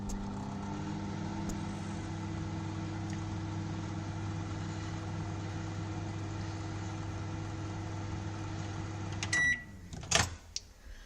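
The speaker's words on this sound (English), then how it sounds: "So I have popped the white chocolate in the microwave, and I'm just going to turn that on" Microwave oven running as it melts white chocolate, a steady low hum that stops abruptly near the end, followed by a few clicks and a door or button clatter.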